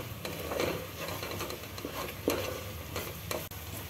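Jowar flour roasting on a very low flame in a pan, a quiet crackling sizzle with spoon scrapes and light taps recurring every second or so, up close and fairly soft, with no voices.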